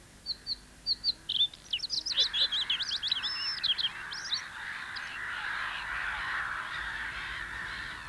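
Black-headed gulls call in the wet Grote Peel moorland of Limburg, with sharp chirping cries in quick bursts, then a softer steady hiss of background noise.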